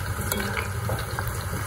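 Garlic being stirred in a dry pan without oil while making garlic peanuts, a continuous soft sizzle with faint scraping of the utensil, close and steady.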